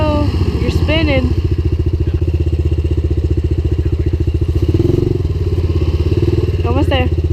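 A Bashan Brozz 250 dual-sport motorcycle's single-cylinder engine thumps and revs loud and close as its rear wheel spins in snow, a fast pulsing beat rising mid-way, with people talking over it.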